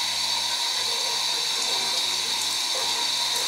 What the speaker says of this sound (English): We should rinse. We should rinse.